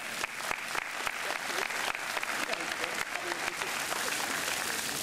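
Outdoor crowd applause at a park ribbon-cutting ceremony in a new amphitheater, dense steady clapping from many hands that holds at an even level for several seconds.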